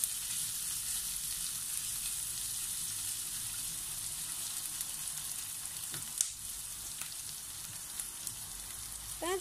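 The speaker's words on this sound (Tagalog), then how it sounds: "let's put in our garlic and continue to fry until the aroma comes out." Garlic frying in a pan while the cook makes a pork dish, a steady close sizzle with a soft crackle that holds at one level throughout, with a brief clink near the end.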